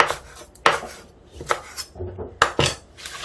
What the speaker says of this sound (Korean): 파를 이렇게 썰겠습니다.